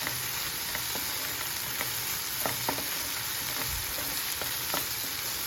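Capsicum fries in a pan, a dense, continuous sizzle and crackle with a few sharp pops and clicks of stirring, close and steady throughout.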